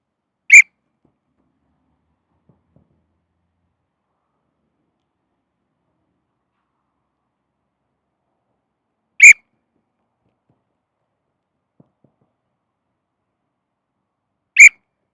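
Three short, sharp blasts of a coach's whistle during a football sprint drill, widely spaced apart with near silence between them, each loud and close.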